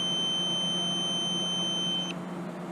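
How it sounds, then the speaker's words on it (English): A steady electronic timer tone sounds during an RC car session with a Tamiya TA05MS touring car, a single continuous high beep holding for about two seconds and then cutting off abruptly, close and clear over a low background hum. "Is that a timer? That was a timer?"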